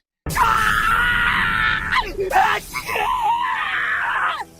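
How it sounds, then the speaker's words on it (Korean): A loud, piercing human scream rings out close by, breaking into anguished groaning wails and continuing in long agonized cries. "귀를 찢는 듯한 비명소리가 울려 퍼졌다"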